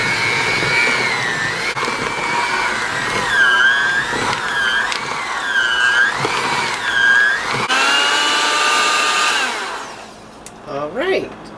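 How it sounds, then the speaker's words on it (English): A Black & Decker electric hand mixer whirs through brownie batter with a high motor whine whose pitch rises and dips as it works the mix in repeated strokes, then winds down and stops near the end. "now we're ready to mix our mixture. And this is where a good mixer comes in handy"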